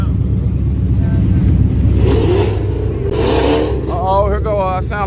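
A Chevrolet Camaro revs at the Yellow Belly dragstrip in Dallas, a loud, broad engine roar under crowd noise and voices, with a rising whine near the end.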